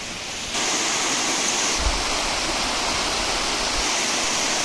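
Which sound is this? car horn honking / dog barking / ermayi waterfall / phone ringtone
ermayi waterfall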